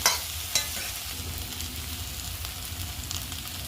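Pudina rice masala fries in a pan with a steady broadband sizzle, opening with a couple of sharp stirring clinks in the first second, then continuing as an even hiss close by with no voices.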